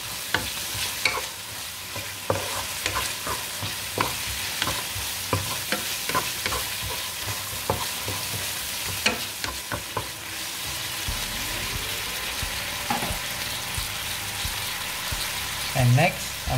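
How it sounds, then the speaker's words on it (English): Hokkien mee sauce with light soy sauce is stir-fried in a pan: a steady sizzle and frying hiss runs throughout, broken by repeated sharp scrapes and clacks of a utensil stirring. "And then I'm going to add 2 tablespoons of light soy sauce. Now let's mix them all together."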